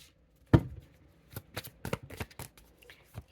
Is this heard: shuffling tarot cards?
yes